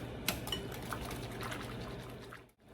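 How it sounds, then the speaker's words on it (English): Gelatin is stirred into boiling water in a bowl to dissolve it, giving soft sloshing and a few light utensil clinks against the dish, close and fairly quiet, fading out at the end. "you'll add 2 cups of boiling hot water. And you'll mix it together to dissolve the gelatin."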